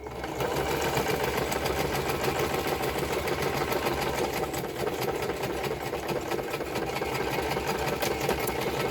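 A sewing machine runs steadily, stitching thread through masterboard paper, its close, even motor whir and rapid needle chatter continuing without pause throughout.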